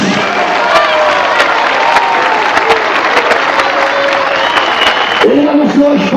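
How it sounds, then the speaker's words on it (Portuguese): Loud applause and cheering fill a church crusade evangelistic service as the congregation claps steadily throughout, with shouts and voices rising over the dense clapping and a brief vocal tone near the end. "pode aplaudir o nome de Jesus"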